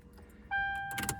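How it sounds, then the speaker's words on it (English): A Ford Crown Victoria starts up: a brief starter crank bursts in after a quiet interior, then a steady tonal hum settles as the engine catches, close and moderately loud. "Start the car."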